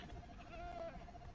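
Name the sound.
goat bleating in a mining video game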